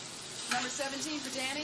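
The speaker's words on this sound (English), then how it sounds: "Look at that sizzle." A hot sub sizzles on a grill in a sandwich shop, a steady frying hiss with faint scraping, while a voice talks over it.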